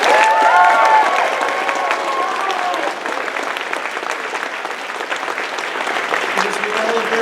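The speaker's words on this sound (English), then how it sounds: "I'd like to give a rounding roar of applause to all of our guests up front." Convention audience applauding and cheering for the guests up front at an anime convention closing ceremony, a loud dense crowd roar with whoops that holds steady for several seconds and eases slightly toward the end.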